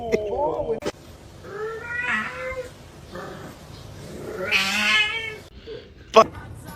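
Kittens meow several times indoors, with drawn-out, rising cries separated by pauses and some soft background rustling and knocks.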